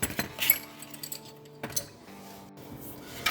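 A wrench works a lube-sprayed exhaust bolt on a 2011-2014 Ford Mustang V6 with a C&L Sport axle-back, giving close, intermittent metallic clinks and scraping taps spread across the clip.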